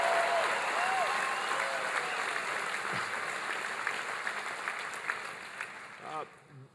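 A town hall meeting crowd applauds loudly and continuously, with a few cheers and whoops mixed in, and the clapping gradually fades toward the end.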